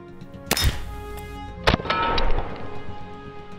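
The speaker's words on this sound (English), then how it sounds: "Now we took a pneumatic gun that easily breaks a glass bottle" A pneumatic gun fires at a suspended Prince Rupert's glass drop, giving a sharp, loud crack followed by a second sudden bang with clattering, ringing debris that trails off into quiet.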